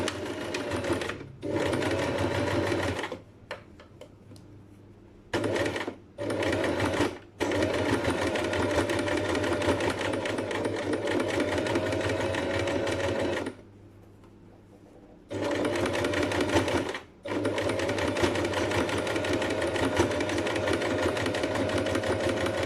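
Sewing machine running a 0.1 cm top stitch near a fused edge, a steady close whirring hum in long runs broken by several short pauses and brief bursts.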